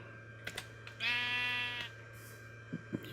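One sheep bleat from Minecraft, a drawn-out wavering baa of about a second, close and clear over a low steady hum, with scattered soft keyboard clicks before and after.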